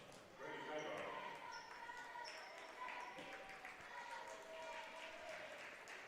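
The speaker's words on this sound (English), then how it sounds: "They get a nice round of applause there" Applause for the departing Guymon seniors fills a gym at a boys regional basketball game between Del City and Guymon, steady and moderately distant, with a ball bouncing, shoe squeaks and crowd noise mixed in.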